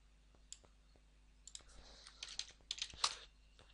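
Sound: typing and clicking in Excel on a computer

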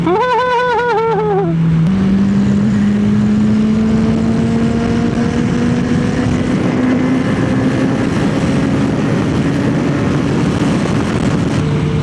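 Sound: Honda CBR650R motorcycle with aftermarket exhaust, ridden

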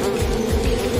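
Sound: swarm of bees buzzing

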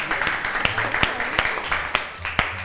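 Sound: applause, clapping

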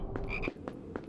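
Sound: frog croaking in Harry Potter PS2 video game

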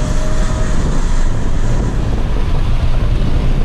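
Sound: wind noise through open car window while driving

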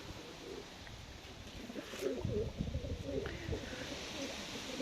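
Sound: pigeons in a loft

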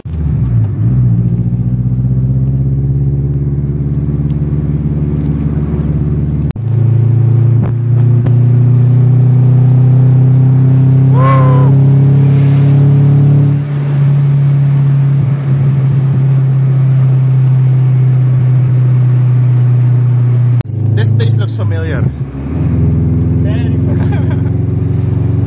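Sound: Honda Integra cars driving and revving

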